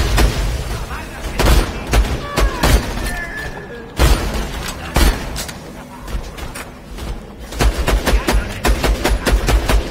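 In Borderlands 2, gunfire crackles in sharp, loud bursts, with irregular single shots and rapid volleys spread across the span amid game noise and brief voices.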